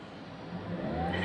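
A manual car's engine revs gently as the driver eases onto the gas, a faint, muffled hum from inside the cabin that rises steadily in pitch and loudness over about a second.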